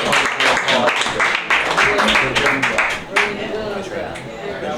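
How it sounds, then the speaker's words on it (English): A small audience claps and applauds steadily throughout at a writing session, dense and fairly loud, with voices talking and calling out over the clapping. "A round of applause."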